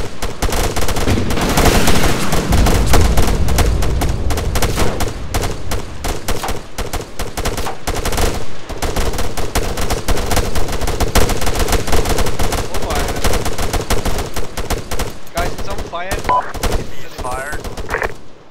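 Heavy gunfire and sustained machine gun bursts in the military shooter ArmA 3, loud and continuous throughout with dense overlapping shots and faint voices underneath.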